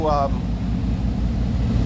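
A steady low engine drone runs throughout, loud and close, with a brief voice at the very start.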